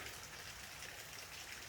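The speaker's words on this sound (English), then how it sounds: "I want to be grateful for the rain" Rain falls in a steady, soft hiss and patter, faint and even throughout with no voices.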